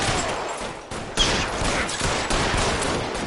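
Dense, continuous video-game gunfire crackles in a sustained, loud fusillade of rapid overlapping shots, with no pause across the few seconds.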